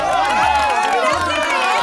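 A studio audience cheers in a loud, dense roar of shouts and raised voices, with one voice calling out over the crowd.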